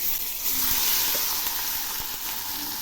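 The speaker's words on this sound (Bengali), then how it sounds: "এবার আমি চিংড়ি মাছগুলো ভেজে নিচ্ছি।" Prawns frying in a pan give off a loud, continuous sizzling hiss that stays even throughout, close up with no talking.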